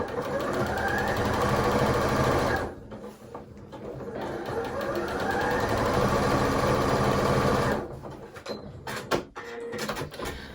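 A sewing machine stitches the side seams of a garment in two long, steady mechanical runs of rapid needle chatter, followed by brief handling clicks and fabric shuffling.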